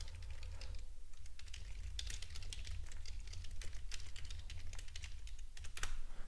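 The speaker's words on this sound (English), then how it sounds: "So give me a minute while I type." Rapid typing on a computer keyboard at a trading desk, with dense, uneven key clicks in quick bursts over a low background hum, close up and with no one talking.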